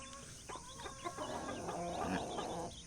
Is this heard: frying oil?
no